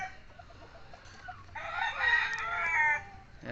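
A four-year-old quadro-banded white-hackle gamecock rooster crows once, a loud, drawn-out crow of around a second and a half close by, with a few faint clucks before it.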